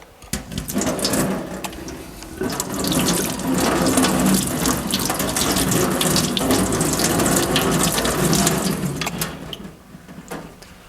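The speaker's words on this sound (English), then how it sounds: "I've got hot water over here in the tap, which I'll just run under some hot water." Hot water runs steadily from a tap over small model planes in a sink, a continuous close splashing hiss that swells slightly and fades near the end.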